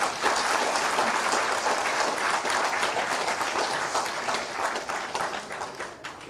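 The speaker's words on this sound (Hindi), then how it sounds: "मैं चाहूंगी हमारी उन बहनों के लिए जोरदार ताली बजाएं" An audience at a Constitution Club event in Delhi claps loudly for women honoured on stage, dense sustained applause filling the room throughout and easing slightly toward the end.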